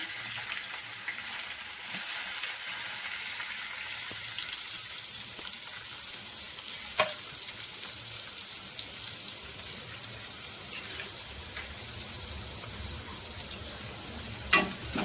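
Onion, curry leaves and ginger-garlic paste sauté on a low flame for a prawn curry, a soft continuous sizzle with faint stirring and a couple of brief clinks, fairly quiet throughout.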